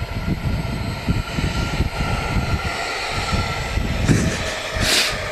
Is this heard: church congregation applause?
no